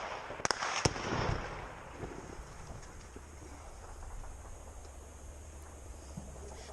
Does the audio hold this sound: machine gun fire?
yes